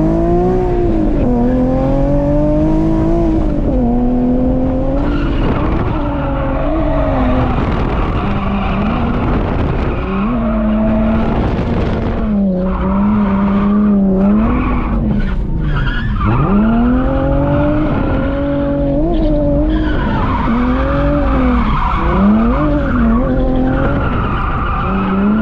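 A drift car slides around a police academy course, its tires screeching in long, wavering squeals that rise and fall continuously over a loud, straining engine, close and sustained throughout.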